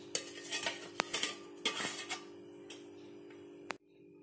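A steel plate is set into an idli cooker with water for steaming cabbage vadas, giving several light metallic clinks and taps spread over a few seconds over a steady low hum.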